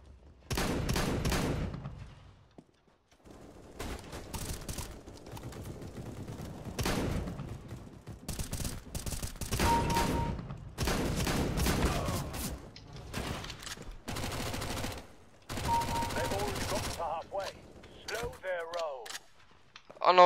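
Gunfire in CSGO, with bursts of loud rapid shots and pops clustered in several volleys separated by brief quieter gaps, with someone talking between and over them.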